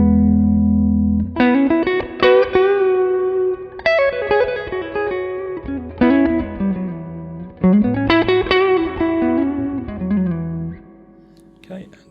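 An electric guitar plays chords and melodic runs through a Brunetti Singleman 16-watt combo amp with its spring reverb set halfway, notes ringing with a lingering wash.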